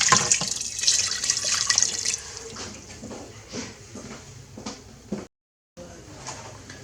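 Hot water being poured from a cup into an Instant Pot over sizzling meat, a brief splashing rush at first that softens into trickles and drips, with a short silence near the end.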